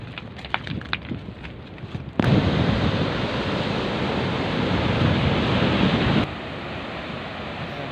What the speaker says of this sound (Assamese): পানী চাওকচোন কি ঢৌ মাৰে, শিলত কোব মাৰে।